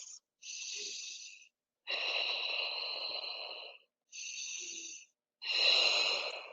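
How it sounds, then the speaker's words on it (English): Deep, slow yoga breathing close to the microphone, four long airy breaths alternating in and out, each separated by brief silence, with no talk. "Deeper breaths."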